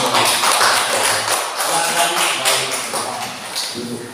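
A classroom group clapping together, a dense rattling burst of many hands that stays fairly loud and gradually thins toward the end, with some shuffling mixed in.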